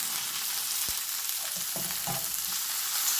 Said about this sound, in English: So here I am sauteing it.